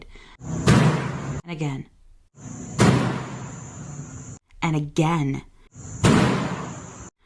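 Three heavy thuds of a body slamming against a door from the other side, each a loud broadband impact with a lingering rattle, spaced a couple of seconds apart, with a voice speaking briefly between them.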